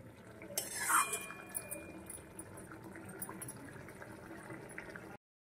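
Hilsa fish head curry with taro and Malabar spinach boiling in a pot, a steady soft bubbling with a brief metallic clink near the start.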